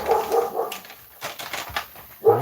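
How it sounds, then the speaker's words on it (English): A dog barks in a few short, muffled bursts at moderate distance indoors, with pauses and faint whimpering sounds between the barks. "I wonder what he's barking at there."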